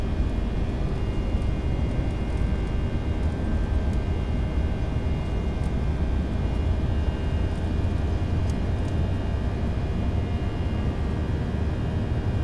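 Steady, dense engine roar and rumble from an Airbus A320 takeoff roll in a flight simulator sound pack, continuous and unchanging throughout.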